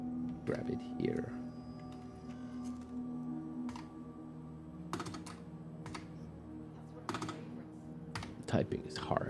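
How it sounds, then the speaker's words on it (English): Bursts of clicking keystrokes on a computer keyboard come in short irregular clusters, fairly close, while someone talks over a steady background hum during a Star Citizen game session. "Typing is hard."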